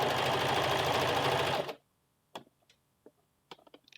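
A sewing machine stitching a button placket on a western blouse, running fast and loud for about a second and a half and then stopping, followed by a few faint clicks and handling taps.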